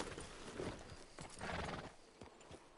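A horse whinnies while hooves thud and clatter nearby, fairly quiet, with no talk over it.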